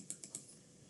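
A computer keyboard is tapped three times in quick succession, with crisp, faint clicks at close range against quiet room tone.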